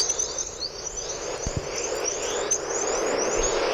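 Chorus radio emissions from space, recorded by radiation belt probes and played back as audio, form repeated rising chirps and whistles like distant birdsong over a constant hiss.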